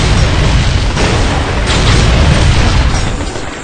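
Howitzer explosions in the video game Binary Domain, a loud continuous booming roar with heavy low rumble and brief surges, no voices.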